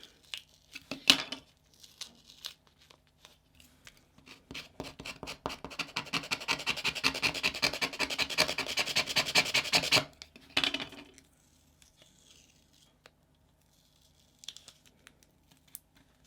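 A scraper tool rubbed firmly back and forth over masking tape laid on a peel-off sticker negative, a dense scratchy rasp lasting several seconds with a few separate short scrapes before and after, close and alone.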